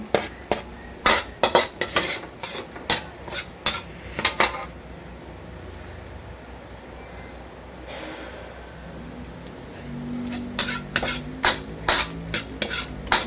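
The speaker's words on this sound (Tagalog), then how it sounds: "Tayo po ay mag-susuted ng bawang." Garlic sautéing in a pan, with a steady sizzle under repeated sharp metal clinks and scrapes of a utensil against the pan, close and continuous, in a brief quieter stretch midway before the clanking resumes.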